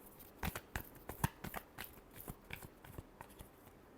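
Tarot cards are shuffled by hand in a quick, irregular flurry of crisp riffling taps, close and fairly quiet. No one speaks.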